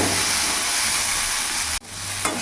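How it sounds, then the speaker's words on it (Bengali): Onion and tomato fry in a hot pan with a loud, steady sizzling hiss that cuts out abruptly near the end, then resumes more softly. "যতক্ষণ না পেঁয়াজ টমেটো একটু নরম হয়ে যাচ্ছে ততক্ষণ একটু ভাজা ভাজা করে নেবো"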